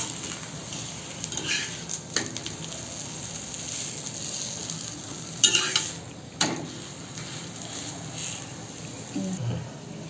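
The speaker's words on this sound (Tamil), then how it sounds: "இதில் கொஞ்சம் நெய் போட்டுக்கலாங்க ரெண்டு சைடும் மாற்றி மாற்றி போட்டு வேக வேக வச்சு எடுத்துக்கணும்" Ragi adai cooks in ghee on a pan, a steady soft sizzle running throughout with a few sharp metallic scrapes and taps from a utensil against the pan.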